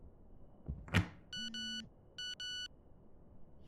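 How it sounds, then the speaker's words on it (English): A phone rings inside a horror video game, with two short bursts of electronic ringing, each made of doubled trilling tones, following a brief thump and a low hum, against a quiet background. "That's our phone."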